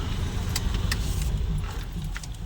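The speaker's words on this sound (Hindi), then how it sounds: "करते हैं बंद गाड़ी को।" A truck is switched off with its keys at a transport yard in Kanpur. Metal keys jingle and clink in quick bursts over a steady, close, low engine rumble.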